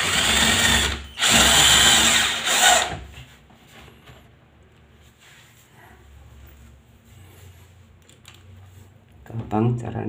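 A power drill drives screws while fitting a bathroom door hinge: two loud close bursts of whirring at the start, then quieter handling and faint tool noise, with a short burst again at the end.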